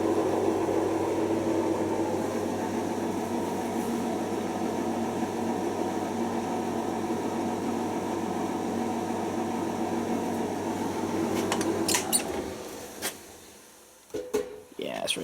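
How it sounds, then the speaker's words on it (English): A clothes dryer runs with a steady broadband hum and drone for about twelve seconds, then stops with some clunks and handling noises near the end. "Lovely dryer."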